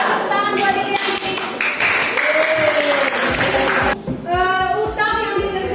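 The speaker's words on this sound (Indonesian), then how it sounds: "Tepuk tangan buat Liliani." Students in a classroom clap for a classmate, a lively burst of close hand claps mixed with children's voices and cheering that rise and fall throughout.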